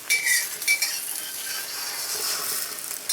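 A spatula scrapes and folds eggs around a pan, with light metallic clinks over a soft sizzle and a steady frying hiss. No voices are heard.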